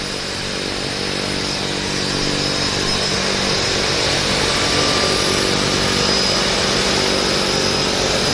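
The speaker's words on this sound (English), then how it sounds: "So we've got our first takeoff. Going to be right here in front of us." A floatplane engine drones at full power during takeoff at the Vancouver float base, a loud, steady, high-pitched roar that holds constant throughout with no speech.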